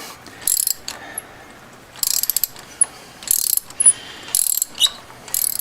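Ratchet wrench unscrewing a spark plug on a Honda Accord, heard as several short bursts of rapid clicking separated by brief pauses, close and fairly loud with no talking.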